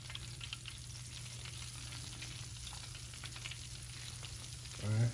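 Chicken tenders frying in hot oil, a steady, close, even sizzle with bubbling crackle that holds throughout, swelling briefly louder right at the end, with no one talking.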